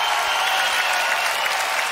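A television studio audience bursts into loud, dense applause for a singer and a band, a full sustained clapping that fills the room at close range.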